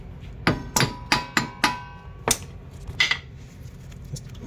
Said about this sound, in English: start pounding on it, hitting on that slide hammer until you get the hub assembly removed